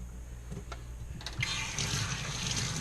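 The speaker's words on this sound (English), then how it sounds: "Again, just give a little rinse to get all that nasty gunk out of there." SunSun 304B aquarium canister filter media being rinsed under running water, a close gush of water that swells and steadies after a brief quieter start; no speech.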